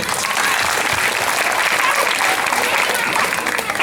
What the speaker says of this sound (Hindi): उनके लिए भी एक जोरदार तालियों से